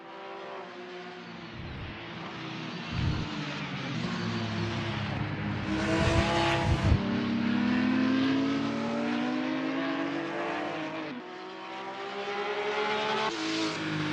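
Porsche 911 GT1-98 race cars lap the 1997 Le Mans circuit in Assetto Corsa, engines revving and shifting through gears, with rising and falling whines as cars pass close by, continuous and loud with no talking.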